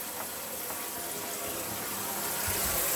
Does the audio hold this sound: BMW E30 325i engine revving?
no